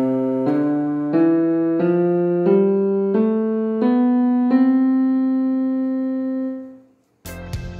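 A natural scale rising note by note from do up to the high do on a clean pitched instrument, evenly spaced tones with the final note held and slowly fading, followed by a brief burst of noise.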